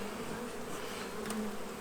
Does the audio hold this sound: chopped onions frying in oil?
no